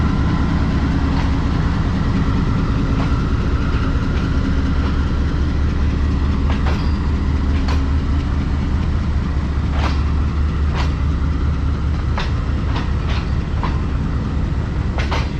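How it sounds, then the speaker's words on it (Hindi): The Green Line Express pulls away at Lala Musa Junction, hauled by locomotive GU24557: a loud, close, continuous rail rumble with engine drone and periodic wheel clicks over the joints. "लाला मूसा जंक्शन पर ग्रीन लाइन एक्सप्रेस हमारे एजाज में रुकी हुई थी और हमारे यहाँ पहुँचते ही ग्रीन लाइन मूव होना शुरू हो चुकी है"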